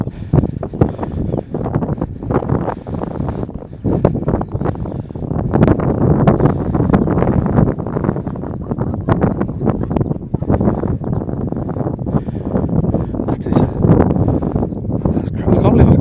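Strong wind sweeps across the White Cliffs of Dover and buffets the microphone hard the whole time, roaring in gusts that rise and fall. A person talks faintly underneath it.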